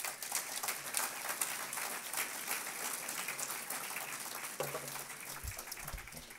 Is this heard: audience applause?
yes